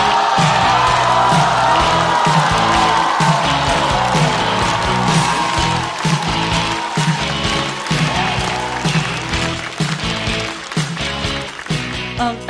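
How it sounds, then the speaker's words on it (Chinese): A live stand-up comedy audience claps and cheers to welcome a comedian onto the stage, loud sustained applause with some whoops that thins out slightly toward the end. "让我们掌声欢迎孙熙。"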